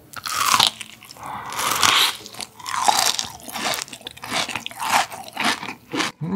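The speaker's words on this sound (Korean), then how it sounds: "한 입만 더 먹을게요" Crunchy Dubai-style chocolate bought at a traditional market is bitten and chewed up close, with loud, repeated crackling crunches and wet chewing in an uneven rhythm and no talking.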